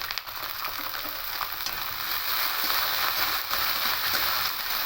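Chickpeas fry in a pan with onion and garlic that were browned first, giving a steady, dense sizzle that holds at an even level throughout, with faint stirring scrapes mixed in and no voices.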